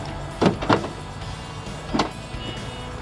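A car's power window motor whirs in several short bursts, two close together and then one more after a pause, inside a quiet parked car.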